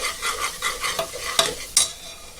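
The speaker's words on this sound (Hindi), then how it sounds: "मसाला भून के हो गया।" Masala stir-fries for mutton dal gosht, a close sizzle broken by repeated spatula strokes scraping the pan, with two sharper clinks near the end and no talk.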